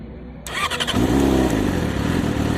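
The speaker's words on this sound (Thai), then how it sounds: "งั้นเรามา ฟังเสียงกันตอนสตาร์ทดู" A big bike's starter whirs briefly after a battery charge, then the engine catches and settles into a steady, close idle rumble.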